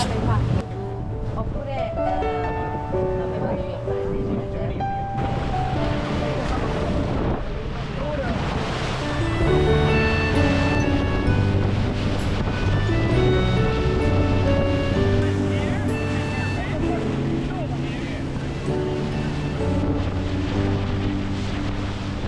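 A dive boat heads out into open water off the Amalfi Coast near Punta Campanella. Continuous wind buffeting and splashing waves rush past throughout, steady and close, under the motion of the hull.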